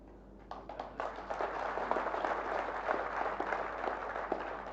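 A crowd at a Maharashtra political gathering breaks into applause, dense clapping that swells quickly and holds steady for several seconds, heard from a little distance.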